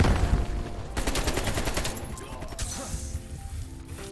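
AK-47 prototype gunfire in the video game Black Ops Cold War, heard as rapid, loud automatic bursts that cut in and out over a dense, noisy battle backdrop.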